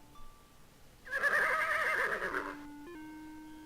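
The Nightmare, a black horse in the video game King's Quest VI, lets out one loud, quavering whinny lasting about a second and a half, set over faint sustained game music tones.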